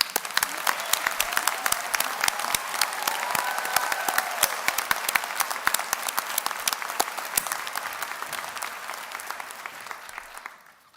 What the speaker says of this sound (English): giving everybody a round of applause for your fantastic contributions to the atmosphere here this afternoon